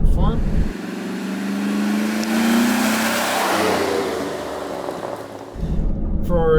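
Restored Toyota Land Cruiser FJ40 with a fuel-injected LS-generation aluminum V8 and manual transmission, revving up through a rising, growling sweep and holding a loud, steady roar before the engine cuts back, heard up close.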